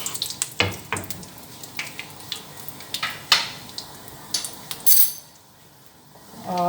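Whole garam masala spices fry in hot oil for a chicken kofta, a close sizzle broken by clinks and scrapes of a spoon against the pan, then a loud hiss near the end.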